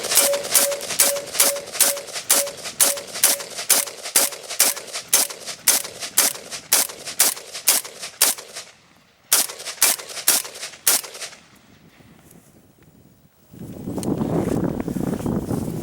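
Rapid gunfire, around twenty sharp evenly spaced shots at close range, rings out against an AR500 steel body armor plate lying on the ground, then a few scattered shots, a pause, and a rush of wind or handling noise.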